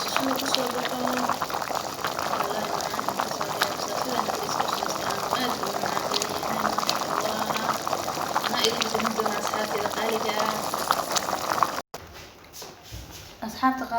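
Rice boiling in a pot of water, a steady bubbling and hissing simmer heard close up under a voice talking, cutting off abruptly near the end to a quieter room.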